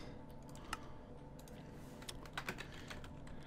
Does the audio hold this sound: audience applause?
no